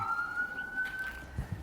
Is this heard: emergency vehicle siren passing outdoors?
yes